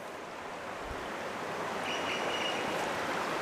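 Steady broadband rush of flowing water along a deep stretch of the river Meander, constant and fairly close, with no voices.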